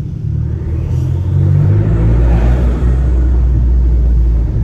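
A 2017 Fiat 500 Abarth gives a deep engine and exhaust rumble close by, swelling as it picks up revs partway through and staying heavy and continuous, with no talking.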